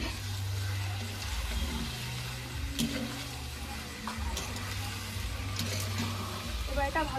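Rice and lentils fry in hot oil for khichuri, giving a steady sizzle with scraping and stirring clatter, plus a low rumble underneath.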